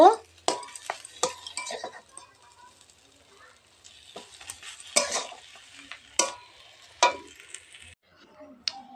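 A utensil stirs and scrapes taro leaf paste in a cooking pan, making sharp intermittent clinks and scrapes with a faint sizzle between them, close to the listener.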